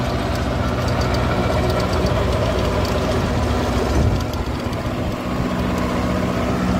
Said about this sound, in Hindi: ज़बरदस्त रोटावेटर खींच रहा है ट्रैक्टर।